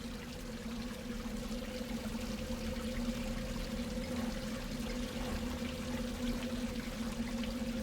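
A continuous, steady flow of water in the A New Beginning video game, with an even rushing and pouring sound and a low drone underneath, lasting the whole stretch without talk.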